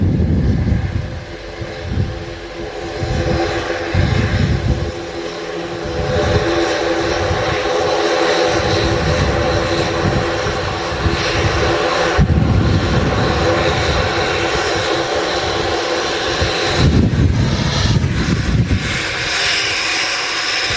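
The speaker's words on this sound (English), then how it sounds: "Very noisy plane though, the ATRs." An Aer Lingus ATR turboprop at Manchester Airport drones loudly and steadily for a long stretch, its broad engine roar swelling and easing with a constant humming tone running through it.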